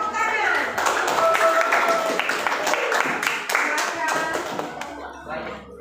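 A class group of middle-school students claps hands in a quick patterned rhythm, loud and close, mixed with voices shouting and chanting throughout.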